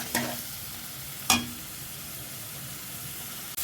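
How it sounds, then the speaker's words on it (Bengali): Garlic and ginger fry in a pan for a cauliflower stir-fry, a steady soft sizzle broken by two sharp scraping stirs of a utensil, no voices. "দিয়ে দিলাম পরিমাণ মতো রসুন, আদা। এটা আবার 1 মিনিট একটু কষাই নিই"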